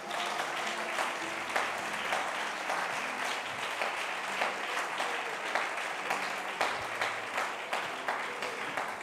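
A church congregation claps during a French-language sermon, steady sustained applause filling the room with a loud, even wash of hand claps and no talk over it.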